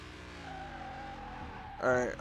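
A car in Car Mechanic Simulator 2021 runs with a steady engine drone, then a short sharp tire squeal near the end as it brakes hard, with someone talking over it.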